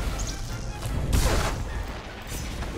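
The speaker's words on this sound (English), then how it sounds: "Get that fire grenade out of here." A fire grenade bursts in a video game with a broad, rumbling whoosh of flames swelling around the middle, set among scattered crashes and gunfire-like thuds in a busy, loud mix without talk.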